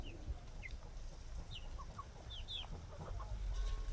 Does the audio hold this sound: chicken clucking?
yes